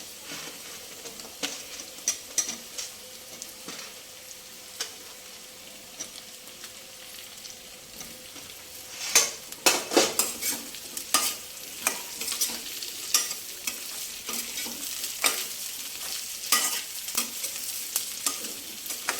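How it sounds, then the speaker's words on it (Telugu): Okra tossed with browned onions in a pan for vadiyala pulusu, frying with a steady sizzle and repeated scraping stirs that grow louder and busier partway through, close up with no talk. "ఇప్పుడు మనం బెండకాయ వేసుకుందాం."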